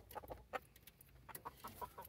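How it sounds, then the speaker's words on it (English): A Blueface Hatch gamefowl stag lets out soft, scattered clucks at low volume, in short irregular bursts. "This is my favorite breed of chickens right here. The blue face hatch"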